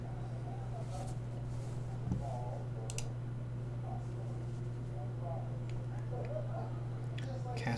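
Soft clicking of a computer keyboard with brown switches, scattered irregular keystrokes over a steady low hum, fairly quiet and close.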